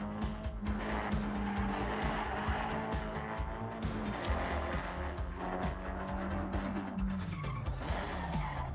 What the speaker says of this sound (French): On fait un peu de drift.